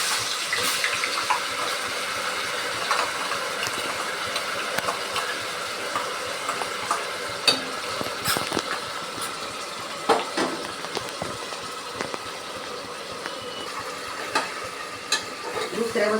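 Onion paste frying in hot oil for a mutton gravy, a steady crackling sizzle with frequent stirring clicks and scrapes running throughout, close and moderately loud with no voice.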